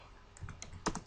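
Quick clicking keystrokes on a computer keyboard, a short run of light taps ending with a firmer cluster of presses.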